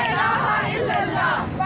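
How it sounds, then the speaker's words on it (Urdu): Women chant slogans at a street protest near the judicial complex in Islamabad's G-11. Their loud, rhythmic crowd voices rise and fall together with a rough, shouted quality. "خواتین جو ہیں وہ اس وقت یہاں پر نعرے بازی کر رہی ہیں"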